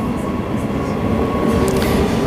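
A train running on rails into a station near Perth, with a steady, continuous rumble of wheels and car noise, fairly loud and close, with no talk over it.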